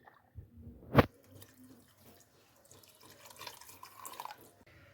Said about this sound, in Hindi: और इसके साथ ही मैं इसमें डालूँगी 2 जग भर के पानी